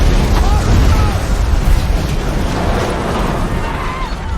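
A loud, sustained blast roars with heavy low rumble and crackling debris, with faint voices buried underneath.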